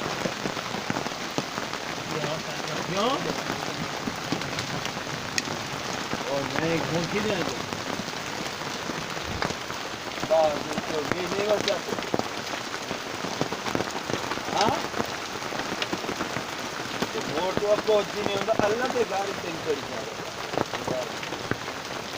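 Heavy rain pouring steadily on surfaces, a dense constant patter with voices talking quietly underneath.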